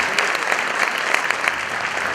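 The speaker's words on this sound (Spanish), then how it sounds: "Un fuerte aplauso para la chef Cristina Miguelito." Audience applause for chef Cristina Miguelito at a cooking demonstration of Tupiza-style tamales, a steady dense wash of many hands clapping, fairly loud and continuous throughout with no voices over it.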